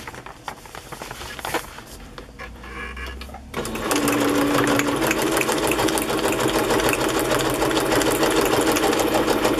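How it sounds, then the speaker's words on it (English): A sewing machine stitching through a craft page starts after a few seconds of quiet handling, then runs as a loud, fast, steady mechanical whir close by. "I could sew it this way before I sew it that way, and then I won't have to glue it."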